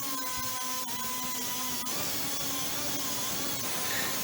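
A burring tool grinds metal in the trunk gutter of a 1968 Dodge Charger RT, a continuous high-pitched whine with a steady motor tone, close and loud throughout with slight shifts in pitch as it bites.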